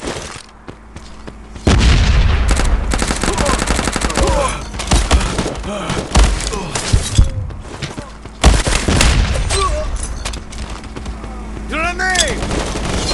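Dense bursts of gunfire and a booming grenade explosion crash through a Modern Ops free-for-all match, loud and continuous, with a voice shouting briefly amid the shooting and later chirping game effects.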